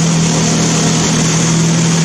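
A Mazda engine on a test stand in an enclosed room runs loud and close with a constant, rough mechanical drone and a steady hum, no voices over it.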